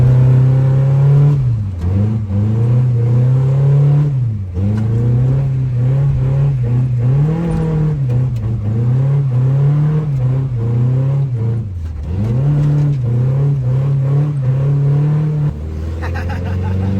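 A 1979 Plymouth Arrow engine runs loud and close, its steady idle rising and dipping in several revs before settling lower near the end.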